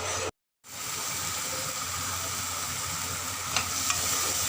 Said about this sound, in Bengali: মশলাটাকে এইভাবে কষাবো যতক্ষণ না তেল ছাড়ছে